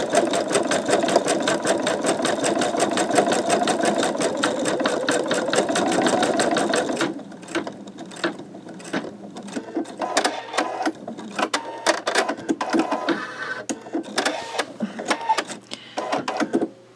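Embroidery machine stitching a sugar skull design, a fast rapid-fire needle chatter loud and close for several seconds, then slowing to intermittent clicks and taps with quieter gaps.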